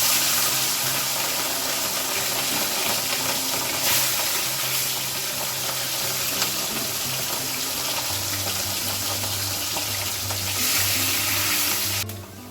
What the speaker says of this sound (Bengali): তো মাছগুলো সব ভাজা করে নেব।